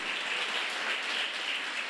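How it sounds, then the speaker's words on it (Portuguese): A church congregation claps in a steady, dense wash of applause that holds evenly throughout, with no voices standing out. "Dê uma salva de palmas ao Senhor"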